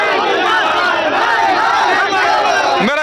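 A dense crowd at a political rally in Deoghar shouts and chants together at close range, a loud continuous roar of many voices that breaks off abruptly at the end.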